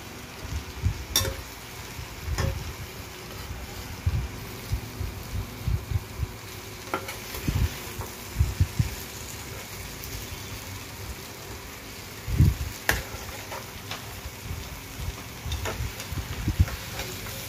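Chopped mushrooms with spices fry in a pan, a steady soft sizzle under repeated scraping and clacking stirring strokes, close by and without talk.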